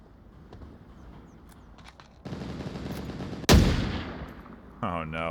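Gunfire in the VR shooter game Onward, heard as a few sharp, loud shots and short bursts at close range among quieter rustling movement, with no voices.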